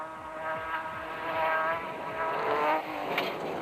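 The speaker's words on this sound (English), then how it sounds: "This is a serious racing machine." A modified Dakar rally racing car with its engine moved back drones with a steady, loud mechanical roar that swells and eases slightly as it passes, heard alone without talk.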